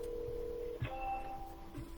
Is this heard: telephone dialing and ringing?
yes